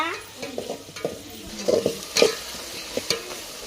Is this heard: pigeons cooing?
no